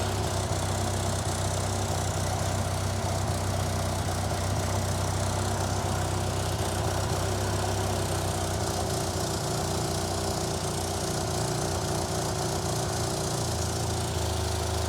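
A 1963 Austin-Healey Sprite with rough running and an exhaust leak idles steadily during SU carburettor adjustment, a continuous close engine drone with a low exhaust burble and no talk.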